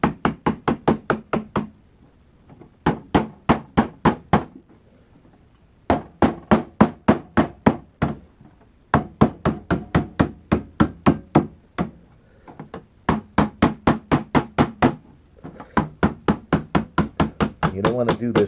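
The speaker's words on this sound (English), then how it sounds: "Just take a body hammer, start in the middle, and just slowly start to bend that over." A body hammer strikes sheet metal to bend it over, landing bursts of quick, evenly spaced, sharp blows close up, broken by short pauses between runs.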